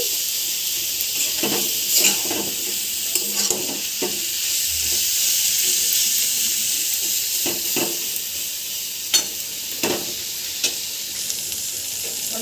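A prawn dish frying dry in a pan, a steady close sizzle broken by repeated scraping strokes of stirring at an irregular pace.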